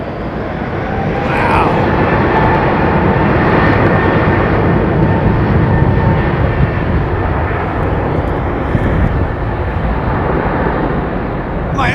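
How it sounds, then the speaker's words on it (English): Jet airliner engine at Heathrow Airport roaring loud and steady for the whole stretch, a dump-valve-like rushing tone over broadband rumble, with faint voices now and then. "it sounded like a dump valve of some sort"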